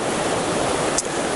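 White water rapids in a river gorge, a grade 3 section, rushing as a steady dense roar of broadband water noise with no pauses.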